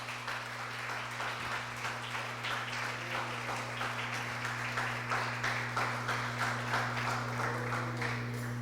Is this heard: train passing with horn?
no